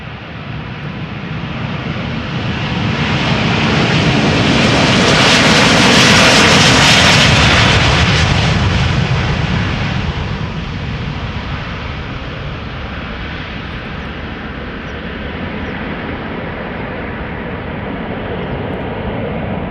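A Delta Airbus A330-300 jet taking off at Amsterdam Schiphol Airport: a loud engine roar swells to a peak a few seconds in, then slowly recedes into a sustained distant rumble.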